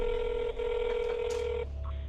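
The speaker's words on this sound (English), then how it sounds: "Now we gotta call Prophet." Telephone dialing tones, a sustained steady tone followed by a short burst of key beeps, close and clear.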